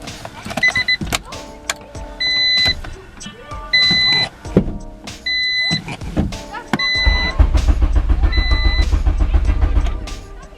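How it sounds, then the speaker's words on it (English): A Honda CRX EF8 cranks and its engine catches, settling into a steady low idle rumble after a series of electric clicks and whirring window motor bursts. "Alright, so the car started."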